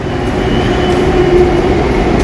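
Bangalore metro train inside an underground station makes a loud, steady rumble with a sustained mid-pitched whine, close and continuous throughout with no talking.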